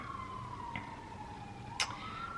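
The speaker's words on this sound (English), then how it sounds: "All right, the sirens are back." A siren wails steadily in the distance, its tone slowly falling and rising, with a brief sharp noise partway through.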